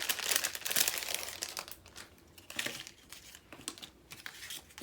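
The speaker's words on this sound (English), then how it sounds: "put them in these repurposed plastic bags" Repurposed plastic bags crinkle and rustle as they are handled up close, with bursts of crackling that come and go in an irregular rhythm.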